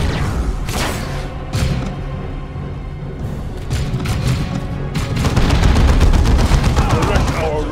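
Grenade blasts and rapid gunfire from the Dawn of War II video game, loud dense bursts of shots and booms overlapping throughout, intensifying toward the end.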